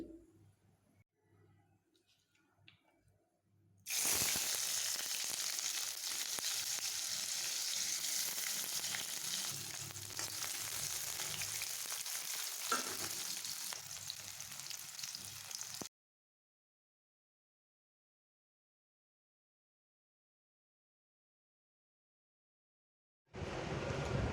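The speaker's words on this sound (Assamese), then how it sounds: "এতিয়া পিঁয়াজ, জলকীয়া আৰু বিলাহীখিনি ভালদৰে ভাজি ল'ম, ৰঙচুৱা হোৱালৈকে।" Onions, chilies and tomatoes sizzle loudly in hot oil for several seconds, then the sound drops out to silence before the frying resumes.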